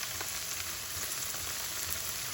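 Food sautéing in a pan while a Filipino bean sprout dish is being cooked, a steady close hiss of sizzling oil that continues evenly throughout.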